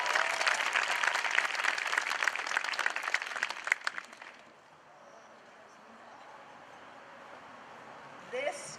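Audience applause at an 8th grade graduation ceremony, dense clapping from a large crowd for about four seconds that then stops abruptly, leaving quiet room tone with a brief rustle near the end.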